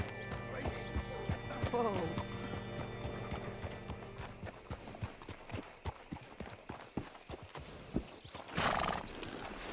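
Horse hooves clip-clopping and a whinny in Red Dead Redemption 2, a rising neigh early on over steady hoof beats, with speech and a burst of noise near the end.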